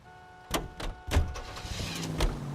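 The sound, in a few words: car starting to drive in L.A. Noire video game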